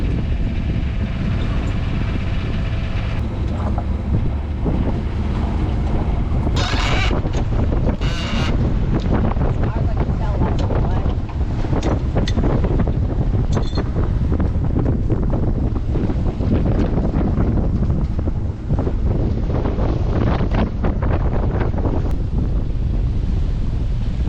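Boat sailing downwind under headsails alone at about 5.5 knots, with steady broadband wind rushing over the microphone and water washing along the hull throughout, loud and continuous with no talk.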